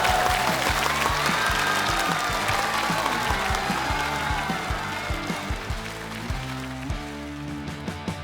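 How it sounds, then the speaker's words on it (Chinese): A stand-up comedy audience applauds to welcome a comedian onstage, with dense clapping that gradually thins out while upbeat music plays underneath. "让我们用热烈的掌声"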